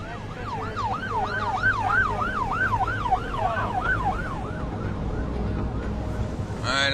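Fire truck siren wails in a fast rising-and-falling cycle while escorting along busy Route 16, a major trucking highway toward Edmonton, loud over constant road rumble before fading slightly.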